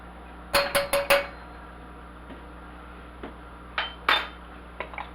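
Ingredients knocked and tipped into a saucepan while making a coffee cream pumpkin pie, giving a quick run of four sharp metallic clinks followed by a couple of scattered taps, close and fairly loud in a quiet kitchen.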